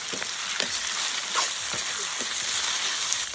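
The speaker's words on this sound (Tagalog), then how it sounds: "isusunod ko na po yung isda na himay-himay po namin. Gisahin lang po muna natin ito." Flaked fish sautés with garlic and onion in a hot pan for Filipino nilatik na isda, a loud continuous frying hiss broken by regular scraping strokes of a spatula.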